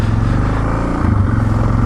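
A motorcycle rides along, its engine giving a loud, steady low drone that stays close and even throughout with no pauses.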